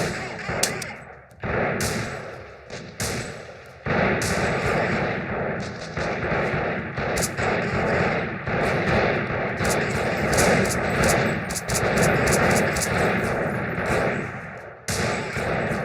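Sustained gunfire from the Freeman: Guerrilla Warfare video game, with dense bursts of rifle and automatic fire rattling almost continuously, loud and close, broken by brief pauses.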